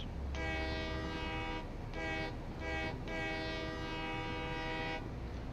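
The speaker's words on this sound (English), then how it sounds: "The horn in the train is the best horn in the game. You must honk it when you get into a train." A train horn in a video game sounds three loud, sustained blasts in a row, the last one longest, over a low rumbling background.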